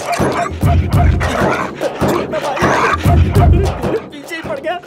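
A dog in a movie scene barks repeatedly in rapid, loud bursts with yips and whimpers, close by, while people talk over and between the barks.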